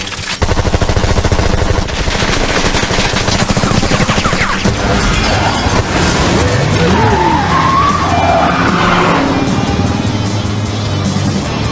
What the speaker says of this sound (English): Gatling gun activated.